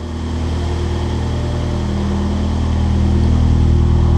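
A steady, low Abarth Punto Evo engine rumble idles continuously and fairly loud, with no talking.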